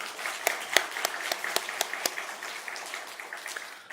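Church congregation clapping together in thanks during a Sunday afternoon service, a burst of scattered, moderately loud claps that thins out and fades over a few seconds, with no talking over it.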